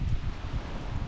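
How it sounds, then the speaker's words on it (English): Wind gusts buffet the microphone outdoors during a rainy walk, a low rumbling whoosh that rises and falls with some rustling and no talk. "Oh boy, the wind's just now picking up."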